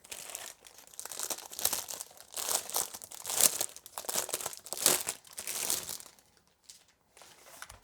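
Plastic packaging crinkles and rustles in bursts as something is pulled free, with short pauses between handfuls.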